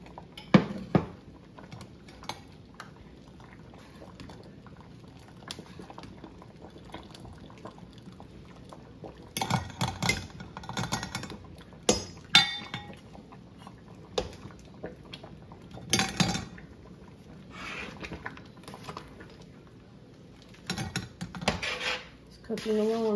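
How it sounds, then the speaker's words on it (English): A spoon stirs Roma tomato salsa cooking in a pot, with scattered scrapes and clinks against the pot over a soft simmer and quiet gaps between the stirring bursts. "Stir it up, let it cook for a while, see how much liquid comes to the top"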